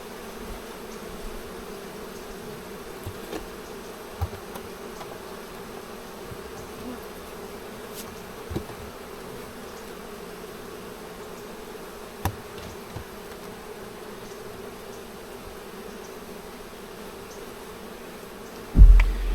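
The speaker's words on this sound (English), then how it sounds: "They'll all go back inside the hive now." Honeybees hum around an opened hive in a steady, faint, continuous buzz, broken by a few soft ticks and a brief thump near the end.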